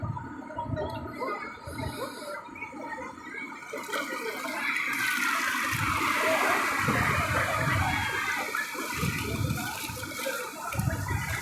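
Sea waves at Digha Mohana beach where a river meets the sea, a rough, swelling surf wash that builds and rolls continuously, heard up close with wind buffeting the microphone.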